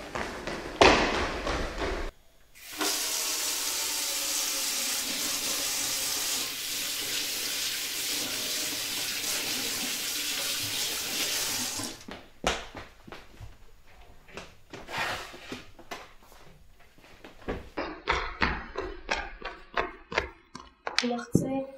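A kitchen tap runs steadily for several seconds while a cloth is soaked in cold water, then cuts off, followed by scattered handling clatter and brief voices in a domestic setting.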